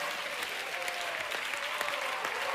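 Studio audience at a televised talent show applauding for an Italian rocker, a steady, dense roar of clapping heard at moderate distance and holding evenly throughout.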